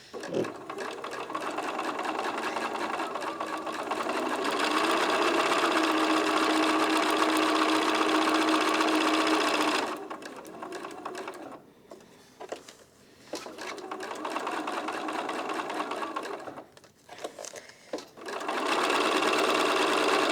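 A sewing machine runs steadily, stitching a quilt block along dotted lines, a loud continuous whir for about ten seconds, then stopping and restarting in shorter bursts with pauses between.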